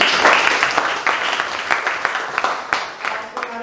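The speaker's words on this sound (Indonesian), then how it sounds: "silakan beri aplaus dulu" A classroom of students applauding on their teacher's cue, giving a burst of mixed hand claps that starts dense and thins into scattered individual claps, with a bit of voice underneath.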